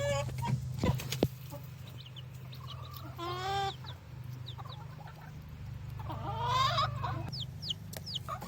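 Broody Silkie hen clucking softly and repeatedly to a newly placed chick, close by, with a few chirps and cheeps scattered between the low clucks over a steady background hum.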